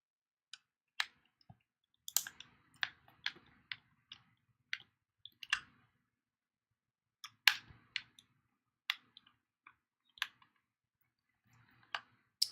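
Sharp, isolated clicks from a screw being driven into a gamepad, arriving in an irregular series of about two dozen small snaps with short gaps between them, close and fairly quiet.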